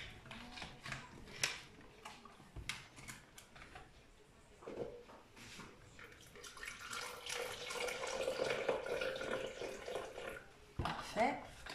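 Grape juice pours into a cocktail shaker in a kitchen. The liquid trickles and splashes steadily and close by, under speech in French, with some clinks nearby.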